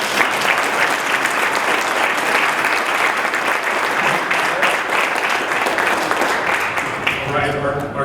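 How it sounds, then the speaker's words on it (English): Rotary club meeting audience applauding, a dense, steady round of clapping from a large room that holds evenly for about eight seconds and tapers slightly at the end. "Let's give them another big round of applause."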